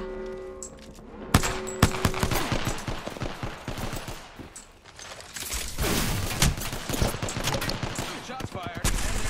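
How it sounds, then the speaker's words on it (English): Video game gunfire: rapid bursts and single shots crackle close and loud for several seconds, with voices talking underneath. "Shots fired."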